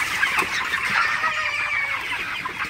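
A crowd of 31-day-old broiler chickens clucks continuously, their overlapping calls forming a dense, busy chatter with no one speaking.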